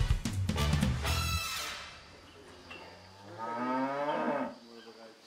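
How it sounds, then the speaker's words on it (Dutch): A twelve-year-old dairy cow mooing on a farm, two long, loud lowing calls close to the listener, the second rising and drawn out. "Koe Keetje is een koe van 12 jaar oud."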